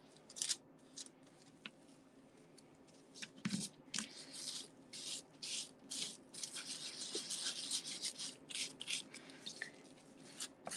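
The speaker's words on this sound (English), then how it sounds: "I'm just rubbing that over the raised areas." Faux patina being rubbed over raised areas of a surface gives quiet, close scratchy rubbing strokes in irregular bursts, with no talk.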